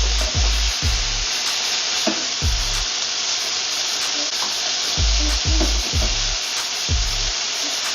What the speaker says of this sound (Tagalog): And we can brown off the lamb for a couple minutes.